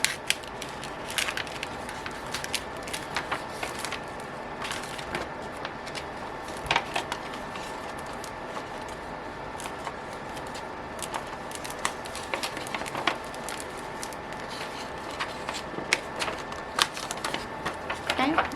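Vinyl backing being pulled off transfer tape on a Starbucks full wrap job: continuous dry crackling and ticking with scattered sharp snaps, fairly close.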